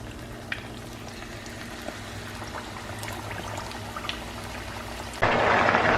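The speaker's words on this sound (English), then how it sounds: "So we just deep fried the French fries." French fries deep frying in hot oil at home, a steady crackling bubbling sizzle that swells into a louder, brighter hiss near the end.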